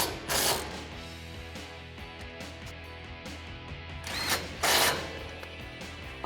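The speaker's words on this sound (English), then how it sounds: "Grab your 13mm socket and tighten them down." A 13mm socket ratchet tightens rotor bolts on a 2010-2020 Ford F150 front brake, giving short bursts of rapid clicking with quiet pauses between them, close and clear with no talking.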